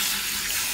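Tap water runs steadily into a sink during a hair wash, a close, loud, continuous hiss and splash heard alone for a brief moment.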